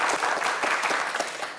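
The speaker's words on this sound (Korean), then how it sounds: "저희 또 역시 잘 풀어달라고 박수 한번 보내주세요." A studio audience at a Korean quiz show claps in a lively, close burst of applause that tapers slightly as it ends.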